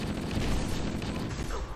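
Rapid gunfire from human weapons wielded by enemies in Halo's 343 Guilty Spark level, a dense, moderately loud barrage of overlapping shots with a bit of muffled voice mixed in.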